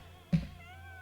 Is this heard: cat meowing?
yes